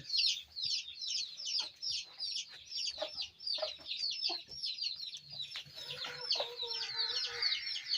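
Aseel Amrohi hen clucking in repeated short, bright calls, fairly close and continuous, with faint farmyard background and a brief rustle near the end.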